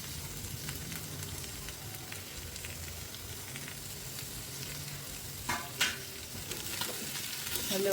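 Chicken with tomatoes and onions fries in a kadai, giving a constant close sizzle with a couple of louder stirring scrapes near the end and no voices.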